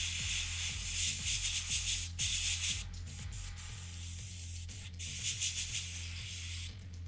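An airbrush sprays paint with a steady, soft, broad hiss that runs nearly throughout, with a low hum and faint rubbing noises beneath it.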